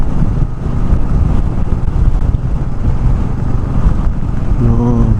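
Strong, heavy wind roars across the open shoreline of Dhanushkodi near Arichal Munai, a steady low rumble buffeting the microphone throughout with gusting surges and no voices.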